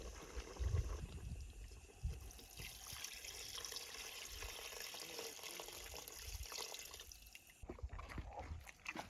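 Spring water splashing and pouring steadily into a pot of chicken curry outdoors, with a constant rushing texture and a brief lull near the end.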